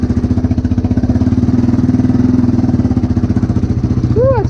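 A small engine idles with an even, rapid chugging pulse, loud and close, steady throughout, with a brief rising whine near the end.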